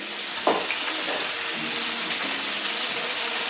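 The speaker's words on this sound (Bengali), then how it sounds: "একটুখানি নুন হলুদ দিয়ে ব্রোকলিটা একবার ভেজে নেবো" Broccoli florets fry in oil with salt and turmeric, giving a dense, even sizzling hiss up close, with a brief clatter near the start and faint stirring beneath.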